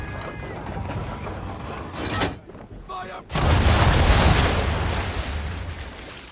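Ship cannons firing in Assassin's Creed III, heavy booming shots that roll together into a loud barrage, then a brief lull before another powerful, sustained blast of cannon fire swells and slowly fades.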